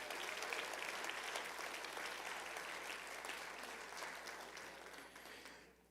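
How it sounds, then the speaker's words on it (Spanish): Congregation applause in a church, a full sustained clatter of hands that gradually thins and fades to silence near the end. "Un aplauso al Señor por eso."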